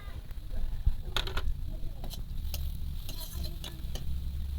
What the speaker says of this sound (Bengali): পেঁয়াজও ভালো করে ভাজা হয়ে গেছে এবার দিয়ে দেবো হলুদ গুঁড়ো